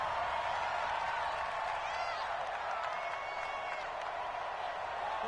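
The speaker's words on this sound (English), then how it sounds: "The crowd here in the Dome making things difficult." A stadium crowd roars inside the Dome during a Dolphins NFL football game near the goal line, a loud, steady wash of noise that holds for the whole stretch without letup.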